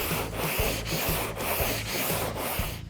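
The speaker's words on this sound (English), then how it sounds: "I'm going to start sanding it with a fresh piece of 80 grit, again the cross blocking" Glaze coat on a car body panel being block-sanded with fresh 80-grit paper in a cross-blocking pattern, a loud, close, continuous rasping scrub in steady back-and-forth strokes with no speech.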